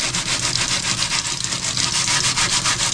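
An abrasive pad rubs back and forth over rough, pitted chrome trim on a 1957 Chevy, producing loud, close, rhythmic scratching strokes at a quick even pace with no talking.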